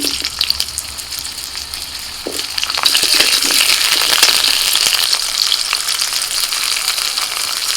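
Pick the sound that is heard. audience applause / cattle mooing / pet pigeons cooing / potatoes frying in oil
potatoes frying in oil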